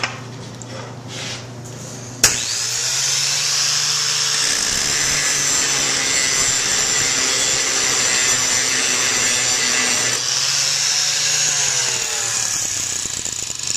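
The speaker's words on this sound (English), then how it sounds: "So now I'm going to grind on this high chrome material that you can see here." A grinding stone works against high chrome wear-resistant material, a loud, steady abrasive whine that starts abruptly after a short sharp hit and holds almost unbroken for about twelve seconds, with no voices.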